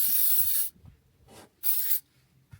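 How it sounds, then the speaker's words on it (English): CRC aerosol spray hisses onto outboard motor electrical components in three short bursts, the first and last strong and close, the middle one softer, with quiet gaps between. "get the CRC now and give the motor a bit of a spray, like all the electrical components"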